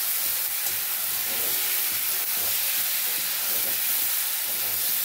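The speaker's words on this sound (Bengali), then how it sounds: "এই মশলাটা দিয়ে খুব ভালো করে কিন্তু মিশিয়ে দেবো, একটু ভাজা ভাজা করে নেবো।" Ginger, garlic, chilli and cumin spice paste frying in a pan while fish roe is cooked, a steady loud sizzle and hiss with faint stirring scrapes and no speech.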